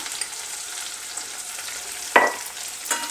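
Garlic, onion, green chili and mustard seeds temper in hot oil with a steady, close sizzle, and a sharp pop or stirring clink breaks through near the end.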